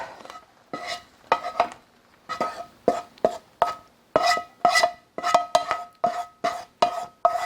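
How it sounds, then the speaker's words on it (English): A utensil scrapes and taps against a non-stick skillet while chicken Alfredo is plated, giving a steady run of short clinks and scrapes at close range with no talking. "I'm going to go ahead and just plate this up"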